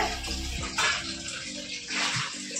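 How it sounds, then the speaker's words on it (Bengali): Water running from a household tap, a steady broadband gush near the mic with a low hum underneath and a few surges and splashes as the flow shifts. "এখন আবার দেখো কলে জল দিচ্ছি"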